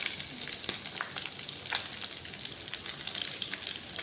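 Fish sizzles steadily in hot frying oil, a dense close crackle with occasional sharper pops and stirring.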